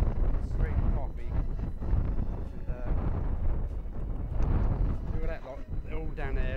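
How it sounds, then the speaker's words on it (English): Steady wind buffeting a microphone, rumbling low and constant throughout, with faint voices mixed underneath. "But anyway, bloody windy."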